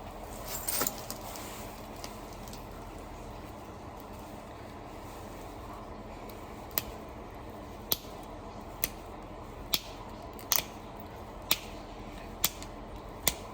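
Knife edge being resharpened by flaking, a series of sharp, clicking ticks spaced about a second apart over a quiet background, starting sparse and becoming regular in the second half.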